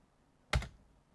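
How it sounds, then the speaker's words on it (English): A single sharp tap on the tab key of a computer keyboard, one close, crisp click standing alone in a quiet room. "if you hit tab on your keyboard"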